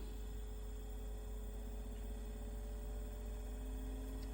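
Blower motor of an Eberspacher Airtronic D2 diesel bunk heater runs with a steady, even electric hum and whir, close and continuous, with no voices.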